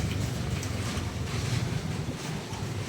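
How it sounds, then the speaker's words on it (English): Constant gusty wind buffeting the microphone outdoors in the Philippines, a low roaring rumble with no voices. "So the weather is getting brighter, but it's also windy"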